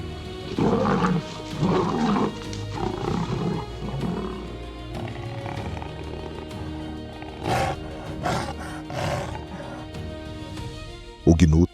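Lions in the Serengeti–Maasai Mara give a series of deep, rumbling roars and grunts after a hunt, loud and close, coming in bursts with short pauses between them.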